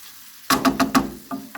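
Beef and garlic get stirred in a frying pan, four or five rhythmic scraping strokes close up over a faint sizzle, followed by a pause and one more softer scrape.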